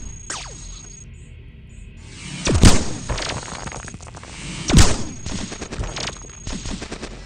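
Enemy robots in the Cogmind video game fire weapons through walls: two loud, sharp bursts of gunfire land a couple of seconds apart over a low, steady rumble of game noise.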